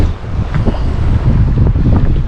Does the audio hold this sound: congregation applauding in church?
no